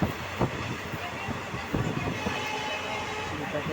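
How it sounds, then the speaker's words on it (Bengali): Steady rumble and rattle inside a moving passenger train bound for Cooch Behar, continuous and fairly loud, with a couple of brief knocks. "ট্রেনে বসলাম এখন তুই পাইনি ট্রেন যাচ্ছে"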